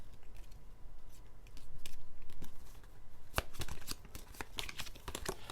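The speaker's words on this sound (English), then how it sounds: "I'm trying to do my best to like do a great job of shuffling everything." Tarot cards shuffled by hand in a soft, continuous riffling and sliding patter, with sharp snapping clicks as the deck is bridged and tapped, close and fairly loud throughout.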